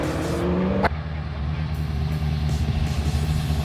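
Shelby GT40 held at high revs on a test drive, a loud, steady engine roar with a sharp upward note early on and a sudden shift near the first second, then a sustained low drone.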